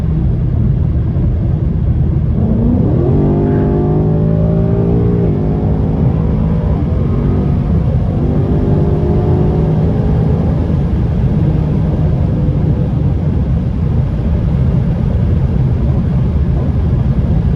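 Ford Mustang GT engine droning steadily from inside the car while driving downhill, a low continuous rumble with rising and falling harmonic sweeps as it shifts through revs, no talking.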